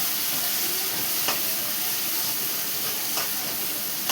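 Onions and green chillies frying in a pan with a steady, even hiss of oil, a couple of faint stirring scrapes, heard close with no talk.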